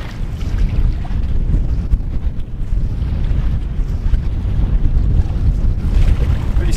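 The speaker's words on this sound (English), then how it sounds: "Pretty stiff headwind." Strong headwind buffeting the microphone on a river trip, a loud continuous low rumble with gusty surges, water faintly beneath.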